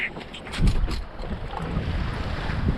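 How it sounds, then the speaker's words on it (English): Wind rushes past a sailboat on a beam reach in 10 to 12 knots, with steady buffeting over the microphone and soft water movement, close and moderately loud, with no talking. "And now we're in 10, 12 knots of wind. Beam reach."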